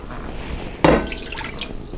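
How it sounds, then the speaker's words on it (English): A third of a cup of water splashes into a mixing bowl of batter in one short, close burst, with quiet kitchen room tone on either side. "Next step, 1/3 cup of water."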